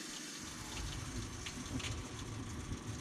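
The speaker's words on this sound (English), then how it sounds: "So these trucks have an electric fuel pump in them." An electric in-tank fuel pump primes in a Duramax truck fitted with a 200-litre Titan tank: a steady, faint whirring hum with a watery rushing texture that holds throughout.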